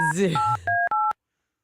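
Touch-tone telephone keypad dialing during a morning radio show, several distinct beeps in quick succession, loud and clear, following a short stretch of talk and then ending in silence.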